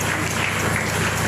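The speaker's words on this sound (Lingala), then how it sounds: "Est-ce qu'on peut acclamer le Seigneur?" A congregation in a church applauds together, a dense, continuous wash of clapping filling the room at close range.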